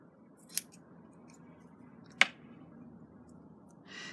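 Scissors cut 1-inch hexagon shapes from quilting wadding, two sharp snips a moment apart over a quiet room hum, followed by a softer rustle at the end.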